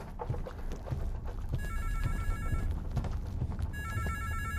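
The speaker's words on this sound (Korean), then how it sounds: "전화 어디서 울리는 거예요?" Telephone ringing in a horror video game, two electronic ring bursts of warbling tones separated by a pause, heard over a low background of footsteps and ambient noise.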